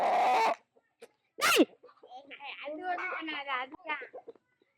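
Chickens clucking and squawking close by, in short separate bursts with quiet gaps, plus a sharp louder squawk.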